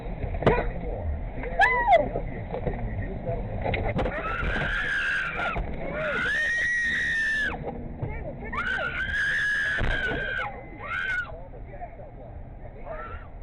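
Screams of horror from a woman being robbed by a gang of masked criminals inside a car, captured on dashcam; loud, sustained high-pitched shrieks come in several bursts over a constant background of road and engine noise.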